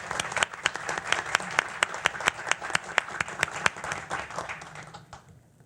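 Applause from a modest audience at a school exit report meeting: distinct, fairly regular claps ring out for about five seconds before stopping abruptly.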